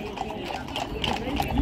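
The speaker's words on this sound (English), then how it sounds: "Horses." Mounted police and cavalry horses clip-clop on the parade ground at the Changing of the Guard at Buckingham Palace, their hooves moderately close amid outdoor crowd noise, with a voice speaking over them.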